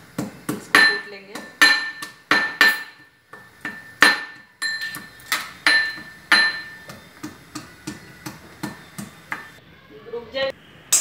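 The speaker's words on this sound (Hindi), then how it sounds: "सबसे पहले तड़के के लिए अपने को इसको कूट लेंगे।" Spices for a dhaba-style dal tadka being pounded with a pestle, a quick series of sharp, hard metallic knocks in an irregular rhythm, loud and close, with a ringing clink on several strikes.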